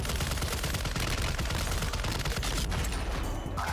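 Continuous automatic gunfire in the shooter Warzone 2, sustained rattling bursts from several weapons mixing into a dense, steady barrage with no talk over it.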